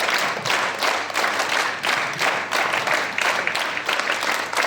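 A group claps together on command during a drill at a Nepali school prize-distribution event, producing loud, evenly spaced bursts of unison claps in a steady counted rhythm, close by.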